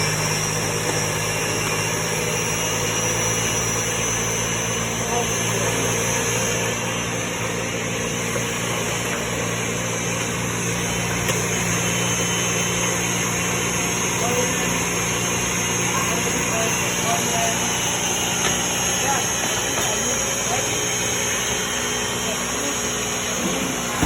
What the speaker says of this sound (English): This is the beans and the onions, and I'll grind them together.